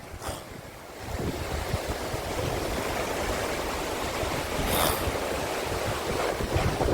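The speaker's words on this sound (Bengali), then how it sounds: "এই দেখো দেখেছো জলের স্রোত" A rushing water current roars steadily, loud and close, mixed with gusty wind buffeting the microphone.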